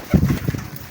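A male Bambu pigeon gives a brief, low cooing burst while being caught by hand, close and soft, with a faint rustle and no talk.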